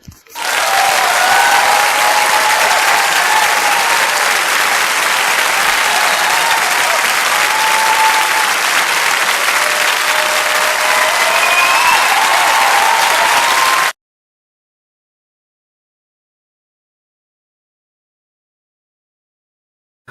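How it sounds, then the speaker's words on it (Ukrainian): Studio audience applause on a Ukrainian TV talent-style show, loud and sustained clapping with crowd noise lasting about fourteen seconds, then abrupt silence. "Аплодисменти!"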